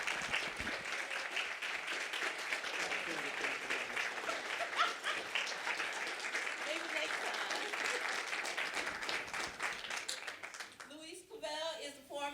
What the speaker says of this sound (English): Let's give a resounding applause for Mr. Russell Williams